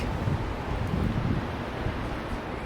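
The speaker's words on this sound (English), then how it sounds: "It's rainy and windy" Gusty wind in rainy, windy weather outdoors, a low rumbling buffet of air against the microphone with soft rustling, steady and fairly quiet for a few seconds.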